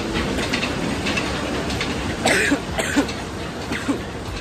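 Several harsh coughs break out at intervals inside a mustard oil mill, over a steady din of running machinery, with no talk.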